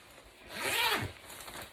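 A coat zipper pulled once in a single smooth rasping stroke lasting under a second, close and fairly quiet, with no talk.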